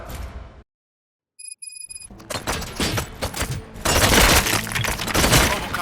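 Rapid bursts of gunfire in RoboCop: Rogue City crackle loudly in a dense, continuous barrage after a brief silence, harsh and close.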